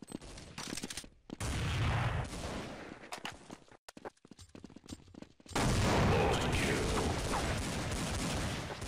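Rapid gunfire in Counter-Strike 1.6 from a Desert Eagle pistol and other weapons, loud dense bursts of shots with short gaps and a sustained stretch of heavy firing near the end, no talk.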